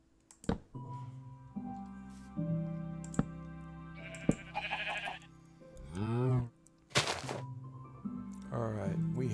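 Sheep bleat in the Minecraft-style video game Oneblock, several wavering cries spaced through the clip among game clicks and thunks, with a person talking in between.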